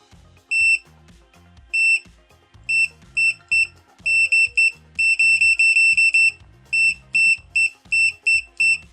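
Short high-pitched electronic continuity beeps from an ET828pro multimeter repeat in quick bursts, some rapid runs and some single, loud and close, with faint clicking between them.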